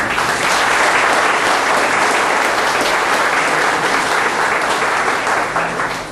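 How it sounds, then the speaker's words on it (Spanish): A loud, sustained round of applause fills the room at a book presentation on a century of Puerto Rican trade unionism, honoring chief editor Armindo Núñez Miranda with dense, even clapping that holds steady throughout. "Yo pido un aplauso para él"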